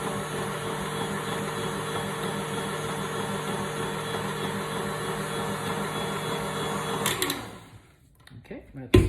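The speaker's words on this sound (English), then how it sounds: "Now the higher speed you go, the more air you're going to be fluffing into it." Electric hand mixer whipping homemade body butter at steady high speed, a continuous even whir running close up for about seven seconds, then cutting off into quiet handling noises.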